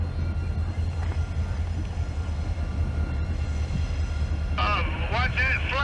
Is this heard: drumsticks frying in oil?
no